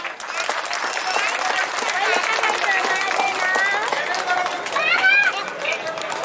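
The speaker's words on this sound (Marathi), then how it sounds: "सर्वांनी एकदा जोरदार टाळ्या वाजवा" An audience at a school retirement felicitation ceremony applauds loudly and steadily, a dense wash of clapping with crowd chatter mixed in throughout.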